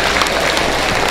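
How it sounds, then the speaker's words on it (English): A morning gathering's audience bursts into loud, dense applause after worship, a thick wash of many hands clapping close and steady throughout. "You guys can clap."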